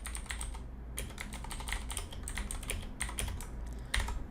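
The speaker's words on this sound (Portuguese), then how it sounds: "Meu teclado é um pouquinho barulhento" Rapid typing clatters on a noisy computer keyboard, with bursts of keystrokes separated by brief pauses, close and fairly quiet with no voices.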